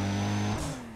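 A Nissan Skyline engine in the video game Need For Speed ProStreet, a brief steady tone that climbs and then drops off as the revs fall, heard alone for about a second.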